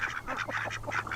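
Ducks on a rainy farm give a quick run of overlapping nasal quacks, steady and fairly close, with no talking.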